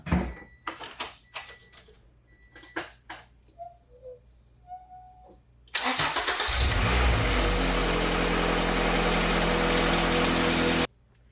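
A few clicks and clunks, then the engine of a Honda Civic EG hatchback swapped with a B18C1 motor cranks and catches, roaring to a loud steady run that cuts off abruptly at the end.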